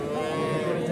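Cattle at a large livestock market in Manikganj give a loud, close, drawn-out moo that fills the whole moment, with crowd noise faintly behind.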